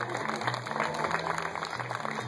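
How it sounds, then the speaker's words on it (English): Audience applause at a horseradish pageant in Collinsville, a dense steady patter of clapping hands lasting a couple of seconds, with a voice speaking faintly beneath it. "Give her a big round of applause."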